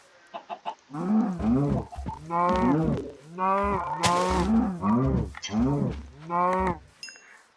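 Cows moo repeatedly in the Minecraft video game, a series of drawn-out, fairly loud game moos in a steady rhythm with brief pauses between calls.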